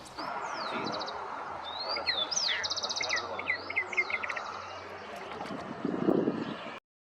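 Small birds chirp and trill in quick bursts among reeds over a constant rushing background, the calls fairly close and repeated throughout.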